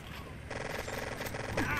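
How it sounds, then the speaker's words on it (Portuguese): Rapid gunfire rattles in the video game Total Overdose, a fast run of shots over the game's other sounds, moderately loud and close. "é muito tiro pra derrubar o cara ali"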